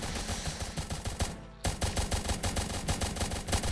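Soldier units in a Roblox tower defense game fire in rapid, continuous bursts of gunfire, loud and dense throughout, with a brief lull in the middle before the shooting resumes at full intensity.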